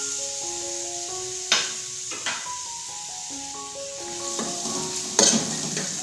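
Onions frying in hot oil in a kadai for a Pakistani-style fish salan give a steady close sizzle, with a few sharp stirring clinks and scrapes and soft background music tones throughout.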